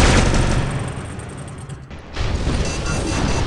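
Viper weapon firing at a robot in the War Robots video game, a dense loud continuous barrage of rapid gunfire that briefly thins out and then resumes, with no talk.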